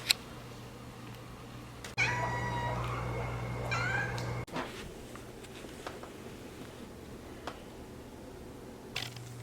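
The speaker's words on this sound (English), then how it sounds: "Okay, let me show y'all all the cats." House cats meow indoors, with a run of several plaintive meows close by in the middle stretch, framed by quieter room noise and a few light clatters and knocks.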